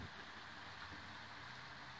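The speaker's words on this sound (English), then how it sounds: "Prove that it's raining." Rain falls on a sidewalk at night as a faint, steady wash of hiss and fine patter with no distinct drops standing out, heard alone.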